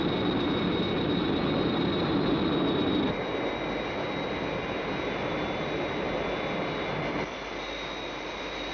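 A steady, loud roar of aircraft engines from a 1967 Captain Scarlet puppet-show dummy attack, droning continuously with slight drops in level, no voices.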